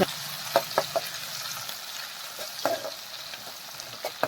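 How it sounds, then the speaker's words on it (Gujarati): Garlic-ginger paste and green chillies roasting in a pan of hot oil give a soft, continuous sizzle, broken by light scrapes and taps of a spoon stirring now and then. "લસણ અને મરચાં કાચા ના રહે તેવી રીતે સરસ શેકી લેવાના"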